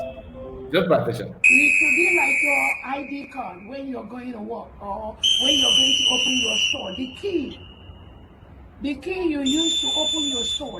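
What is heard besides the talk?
whistle sound effect added in background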